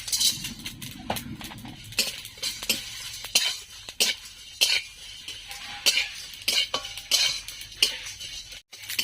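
Whole spices such as bay leaf and black peppercorns dry-roasting in a pan for olive pickle masala, with repeated scraping stir strokes and light metallic clinks, close and fairly steady, no talking.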